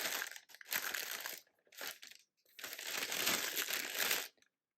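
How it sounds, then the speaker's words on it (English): A plastic piping bag for soap decorating being snipped and twisted, loud close crinkling and crumpling in several bursts separated by brief silences, no talk. "I usually cut the bag like so, then I twist it"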